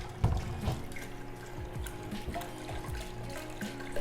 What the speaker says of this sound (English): Oh my gosh, stop splashing.